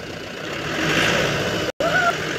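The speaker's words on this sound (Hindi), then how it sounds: "पिकअप स्टार्ट कर दिया गया है।" A Mahindra Bolero pickup's engine runs at a steady idle close by, with a brief dropout partway through.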